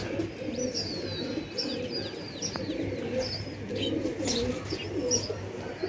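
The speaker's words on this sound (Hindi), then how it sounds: "ये सब नए कबूतर हैं" Pigeons, a flock of new birds kept at a home loft, coo steadily in low throaty calls, with a few higher chirps and whistles above; the sound is continuous and moderately close, with no clear talk.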